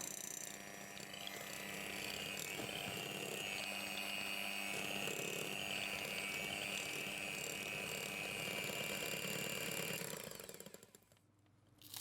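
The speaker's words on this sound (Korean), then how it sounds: "휘핑기로 덩어리 없이 부드럽게 풀어주세요." An electric whisk beats room-temperature softened butter in a bowl, a steady loud motor whir running for about ten seconds before it stops and fades near the end.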